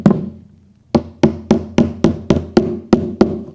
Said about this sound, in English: Then we'll come back with a hammer.